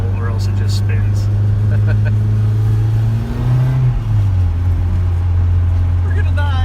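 A Mazdaspeed Protege with a Garrett GT25/40R turbo accelerates under partial throttle as its tires spin, producing a loud, sustained engine drone that dips briefly midway and then climbs again, heard from inside the car.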